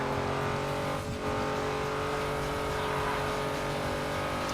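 Racing car engines in the video game Need for Speed Underground 2, a sustained, loud, tonal engine drone with a brief dip and recovery as the revs shift.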